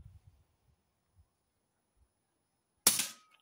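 A lone close crack from an Air Arms S510 Carbine air rifle firing, sharp and loud after a few seconds of near silence with faint low thumps, ringing briefly as it fades.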